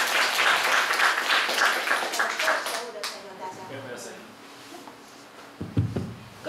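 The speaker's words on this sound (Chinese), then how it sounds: "所以让我们以最热烈的掌声来欢迎李艾伦律师" An audience applauds to welcome a young death-penalty defense lawyer to the stage at a philosophy talk evening in Taichung. The clapping is dense and loud for about three seconds, then thins and fades, with a brief thump near the end.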